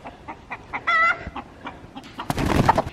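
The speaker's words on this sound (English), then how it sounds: "It's not Bonnie, it's one of the Rhode Island Reds." A Rhode Island Red hen in a farm enclosure gives soft scattered clucks, then a short drawn-out squawk, and ends in a louder flurry of rustling and clucking close by.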